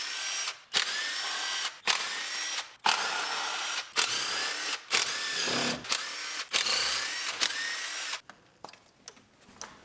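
Repeated short bursts of a power drill spinning out valve cover bolts on a 2019 Ford Explorer, about eight close, loud whirs separated by brief pauses.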